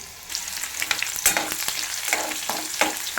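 Onion and mustard seeds frying in a pan for a sandage vegetable dish, with a steady close sizzle, crackling seed pops and a few stirring scrapes, no talking.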